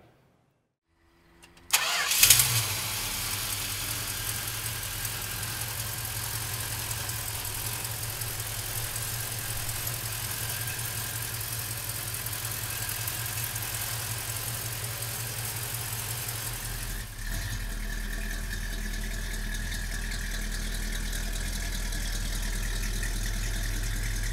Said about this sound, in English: So come on up and let's fire this 440 up.